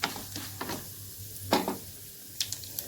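Chana dal frying in oil in a pan for tamarind chutney gives off a faint, steady sizzling hiss, with a few soft clinks of a spoon against the pan over a low hum.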